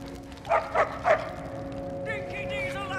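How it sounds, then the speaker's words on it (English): A dog in a video game gives three quick, sharp barks close by, then a softer whimpering yip, over a quiet humming background. "good dog."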